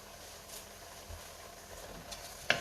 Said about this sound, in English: So I'm just going to go ahead and mix this around.